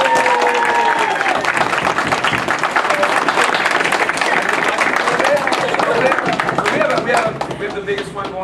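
Sustained audience applause at a KMC opening session, loud and dense clapping continuing throughout with speech and voices mixed in, tapering slightly near the end.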